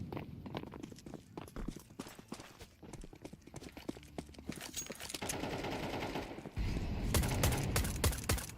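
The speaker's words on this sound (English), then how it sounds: "Some shots through, but they're not connecting for Illuminar." Pistol shots in a competitive Rainbow Six Siege-style esports match, sharp rapid pops scattered irregularly amid footsteps and game noise, growing denser and louder toward the end.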